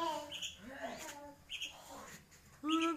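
A one-month-old sooty-headed bulbul chick just learning to sing gives short, thin chirps and squeaky calls in a few brief bursts, close and fairly quiet, with a sharper call near the end.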